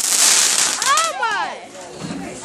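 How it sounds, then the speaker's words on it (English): A consumer sprinkler-type firework, called Hasta La Vista, goes off nearby in a dense hissing, crackling burst with rising and falling whistling sweeps, under excited voices. "Sprinkler firework, I'm guessing."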